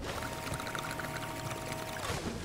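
Water rushes steadily into a bucket in the cleaning game Crime Scene Cleaner, a continuous pouring hiss with a faint rising tone, moderately loud and uninterrupted for a couple of seconds.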